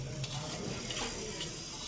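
Chopped garlic frying in oil in a pan, a soft continuous sizzle with light crackle and faint clinks, close and low in level, no talk.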